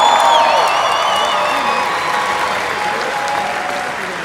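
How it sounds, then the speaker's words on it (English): Convention audience in Las Vegas breaking into loud, sustained applause with cheers and whoops mixed in, the clapping filling the room close and full before easing slightly toward the end. "Give China a round of applause."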